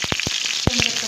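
Garlic frying in oil in a pan, a short burst of hissing sizzle punctuated by several sharp utensil knocks, close and fairly loud.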